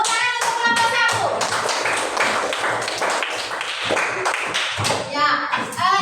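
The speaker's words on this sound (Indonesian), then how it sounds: "Tepuk tangan untuk kelompok satu." Clapping for group one in a school classroom, several rhythmic bursts of hand claps from students with children's voices and a teacher speaking in between.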